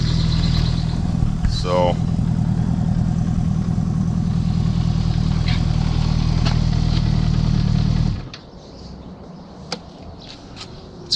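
A motorcycle pulled from a storage locker runs at a steady idle with a dense low rumble, then cuts off abruptly partway through, leaving quiet room sounds and a brief spoken word.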